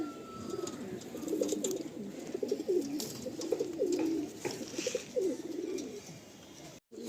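Giribaj pigeons coo in a soft, repeated, throaty burble at close range, with a steady low background hum beneath the calls.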